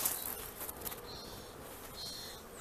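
Honeybees (Apis) buzz steadily while being smoked and driven into a box during a hive capture, a close continuous hum with a few higher whining passes of individual bees.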